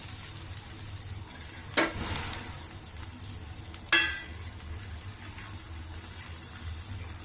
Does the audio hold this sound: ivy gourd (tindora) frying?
yes